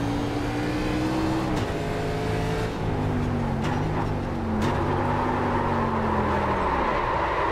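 Simulated NASCAR stock car engine in iRacing at Watkins Glen, loud and steady, with a sharp downshift into first gear that sends the revs jumping, followed by further gear changes and pitch swings, no talk.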